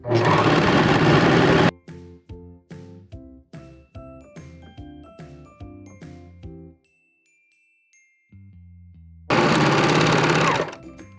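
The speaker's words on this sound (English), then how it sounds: "I'm going to go ahead and serge the 2 armholes and the neckline" Serger finishing the armholes and neckline of a shift dress, a loud dense whirring burst at the start and again near the end, with a run of short rhythmic clicks and taps between.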